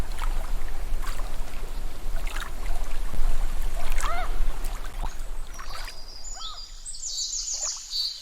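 Water ambience in a game level sits near the water's edge, with soft flowing water, scattered bird calls and a faint splash, then a brighter synthetic pickup chime near the end.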